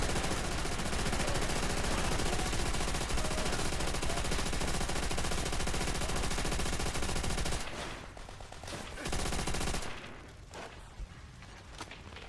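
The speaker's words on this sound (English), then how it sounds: "Too bad they didn't make the MG42 fire as fast as it does in real life in this game" An MG42 machine gun fires in Call of Duty: World at War with long, loud, continuous bursts that sound close. After the sustained firing it breaks into shorter, choppier volleys, with no talking.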